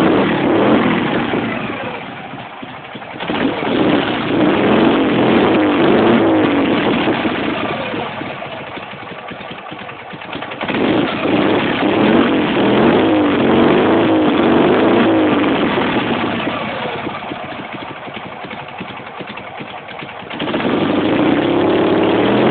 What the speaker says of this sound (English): Let's see about starting it up and see what she sounds like.